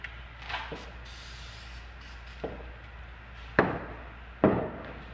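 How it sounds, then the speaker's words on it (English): A razor blade slicing through material on a witch cabinet build, a few short sharp scraping cuts spaced apart, close and fairly quiet against a faint background hiss. "just going to cut that with the razor blade so that I can fold it over"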